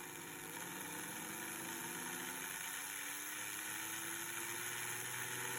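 A Scalextric Lotus slot car motor from 1961 runs at low volts with its rear wheels lifted, giving a steady faint whine with a hum and a slowly rising tone, alone and continuous throughout.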